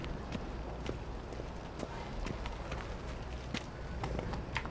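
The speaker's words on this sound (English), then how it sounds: "Come here, fucking horse," Steady clip-clop of horse hooves on a hard surface in The Witcher 3, quick irregular beats over a constant background hum.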